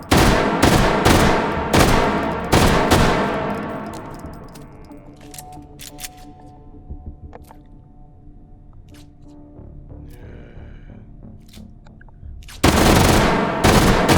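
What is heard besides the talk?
automatic gunfire from the video game H3VR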